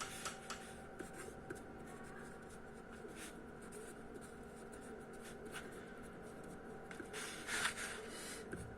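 Pen scratching steadily across paper while someone works through a physics problem on electric forces. The strokes form a continuous, close scribble with small bursts and pauses and no talking.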